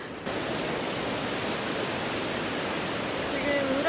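Strong river current rushing below a glass-floored bridge at night in Wulai, Taiwan, swollen after heavy rain: a steady, dense broadband roar throughout, with a faint voice briefly audible near the end.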